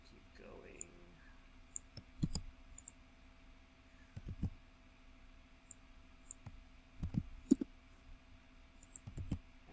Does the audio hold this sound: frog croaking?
no